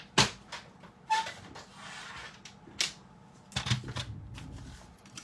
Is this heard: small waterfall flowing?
no